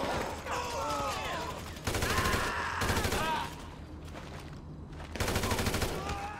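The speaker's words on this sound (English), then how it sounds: "I'm just firing my regular gun." Gunfire in the co-op video game GTA V, bursts of rapid shots in dense, loud stretches separated by brief lulls, with voices speaking during the clip.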